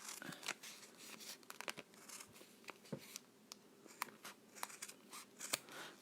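Scissors cut through a paper sewing pattern for a felt cactus pin cushion, a series of close, crisp snips and rustles in uneven rhythm, quiet and without talk.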